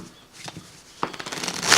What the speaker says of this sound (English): give the card some shuffles